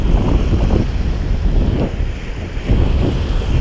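Strong 15 to 20 mph southeast wind at the shore buffets the microphone with a constant roaring rumble, gusting louder in waves, with water noise beneath and no voices.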